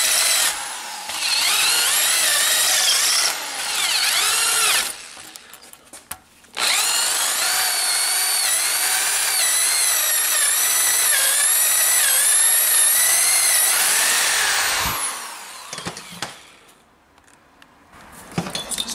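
A power drill whines continuously at high pitch with wavering tone, drilling out a Porsche 996 Turbo's catalytic converter, cutting out briefly and restarting, loud and close, with metallic rattling between bursts.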